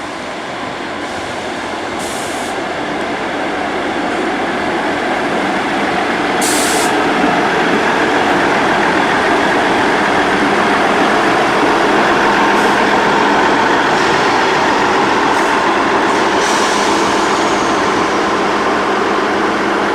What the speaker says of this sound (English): So here comes our last Leeds bound train.